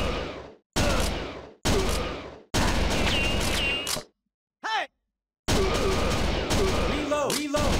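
Rapid gunfire from the arcade shooter Virtua Cop 2 comes in loud bursts separated by short gaps, with brief swooping game effects between volleys and a longer barrage near the end.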